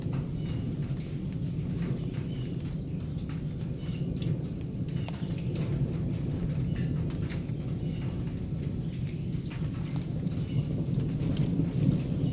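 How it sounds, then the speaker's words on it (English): Hail and rain pound a garage roof during a thunderstorm, a dense, steady drumming roar with a deep low rumble that holds evenly throughout, with no voices. "eventually, you'll actually hear hail hitting the roof of my garage"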